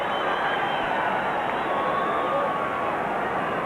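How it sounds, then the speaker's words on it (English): A rugby league crowd at a 1994 Newcastle Knights versus Canberra Raiders match roars after a penalty to Newcastle, a loud, sustained wash of voices and cheering that holds steady throughout. "Brings a roar of delight from the crowd"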